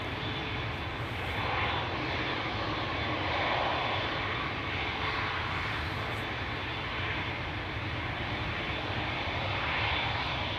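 An airliner taxiing at Schiphol Airport gives a continuous jet engine rumble and whine, moderately loud and steady with gentle swells, with no voices.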